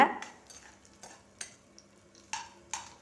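Onion and coriander leaf being sautéed in a pan until lightly coloured for a tomato-coriander dish, with spaced spatula scrapes and stirring clinks over a soft background sizzle, close and fairly quiet.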